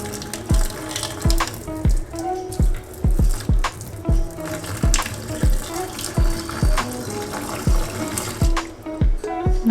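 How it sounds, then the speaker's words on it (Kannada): Hot water pours into a kitchen sink during a baking-soda drain cleaning, a steady close splashing stream broken by repeated sharp knocks and clatters in an irregular rhythm, with no talking. "ಈಗ ನೋಡಿ ಸ್ವಲ್ಪ ಬಿಸಿ ಬಿಸಿ ನೀರು ಹಾಕೋಣ"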